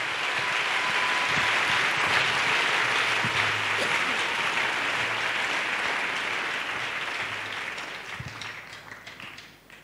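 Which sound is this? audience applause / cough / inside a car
audience applause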